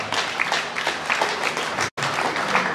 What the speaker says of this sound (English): let's show your exhibitors a big round of applause for the call they brought out